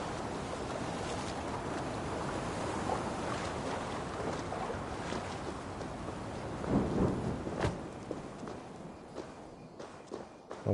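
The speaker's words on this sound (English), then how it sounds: "Away from the storm." Thunderstorm in the video game Assassin's Creed Valhalla: steady rain hiss with low rumbling thunder throughout, a sharper crack swelling near the end, no talking.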